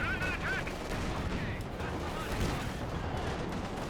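Tank gunfire in a World War II strategy game as a Panzer formation destroys a T-34, with a dense clatter of shots and booms mixed with battle noise and brief honking tones, fairly faint.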